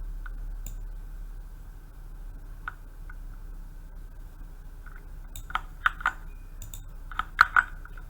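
Keystrokes on a computer keyboard come in sparse, faint clicks and then a few short quick clusters of taps over a low steady hum, with no speech.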